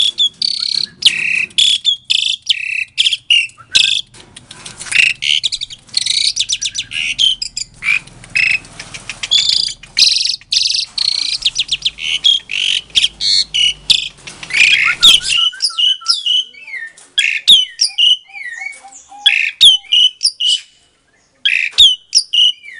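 Songbirds, magpie robins and zebra doves, call loudly and continuously in rapid chirps and trills, dense and close, thinning out into scattered whistled notes toward the end.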